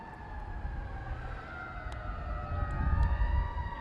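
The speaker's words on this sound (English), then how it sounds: "You can hear the sirens here" Emergency sirens wail in the distance during a boys' baseball game, steady rising and falling tones over a low rumble of traffic that swells toward the end.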